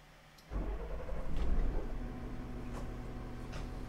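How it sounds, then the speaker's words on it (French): A city bus engine cranks and fires at about half a second, then settles into a steady, low, rumbling idle that runs to the end, close and fairly loud. "Je démarre le véhicule."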